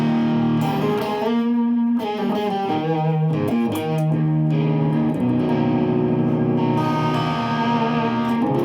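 Electric guitar on an ESP instrument set to an out-of-phase pickup tone, thin and hollow with effects, playing sustained chordal notes and melodic lines through an amp, clear and close with no talking.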